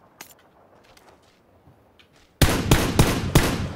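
Gunfire in PlayerUnknown's Battlegrounds: after a few faint distant shots, a loud close burst of rapid automatic fire breaks in with about five heavy reports in a quick rhythm.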